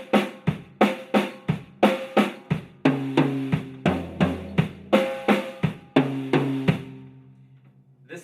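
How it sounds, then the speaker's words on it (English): Drum kit playing a triplet groove: two hand strokes followed by one single bass pedal kick, repeating in a steady, loud rolling pattern with sharp attacks and a decaying ring at the end. "it's basically a triplet feel between a bass pedal and your hands."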